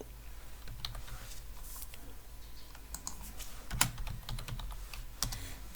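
Steady typing on a computer keyboard, a run of light rapid key clicks with a couple of sharper taps, close and alone without speech.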